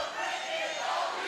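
A wrestling arena crowd at a women's match between Brittany and ODB cheers and roars, forming a steady, dense wall of noise without a break.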